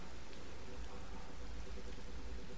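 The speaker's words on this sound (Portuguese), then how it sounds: "Barulho de cachoeira." A waterfall inside a video game cave gives off a continuous, even rushing roar of falling water, faint and unbroken, with no voices over it.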